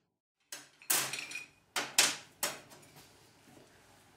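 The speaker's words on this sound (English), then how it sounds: "I'm going to spread all these bits and pieces on the table so I can see exactly what I've got" Metal parts of a Granberg Alaskan chainsaw mill set down on a table, half a dozen sharp clanks and clatters in an uneven sequence, close and clear with short ringing tails, no talk.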